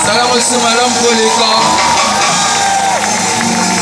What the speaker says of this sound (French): Pousser les cris de victoire.